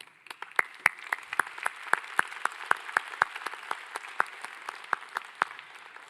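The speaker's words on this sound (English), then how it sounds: "you all deserve a round of applause" An audience claps in steady, close applause for a few seconds after a long day of discussion at a science and technology dialogue event; the sharp, dense claps keep an even level throughout.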